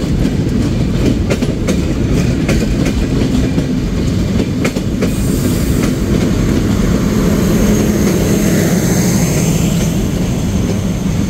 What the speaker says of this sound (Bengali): খুলনা থেকে ছেড়ে আসা ঢাকাগামী চিত্রা এক্সপ্রেস